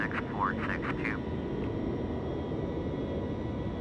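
A heavy Boeing 707 in Flight Simulator X rumbles steadily on the taxiway as jet engine thrust pushes it along, a low continuous roar with a few brief tonal chirps early on.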